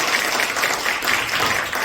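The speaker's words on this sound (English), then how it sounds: "Can we get a big round of applause for Joe Martin" A Comic Con audience gives Jo Martin a big round of applause at a Doctor Who panel, a dense, steady wash of many hands clapping throughout.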